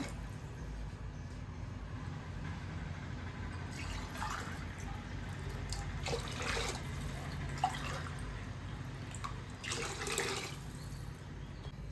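Water splashes and trickles into a pot of lentils in a few short bursts, close by, over a steady low background rumble.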